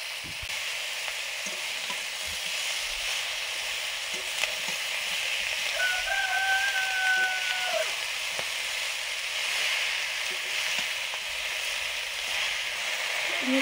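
Water spinach and raw mango fry in a pan with a steady close sizzle and crackle, stirred now and then with a faint scraping, while a thin brief whistle-like tone rises midway; no talk.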